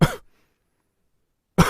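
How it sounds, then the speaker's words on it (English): A dry cough sounds twice, a short harsh burst at the start and another at the end, close and loud, with silence between. "So this is how a dry cough sounds."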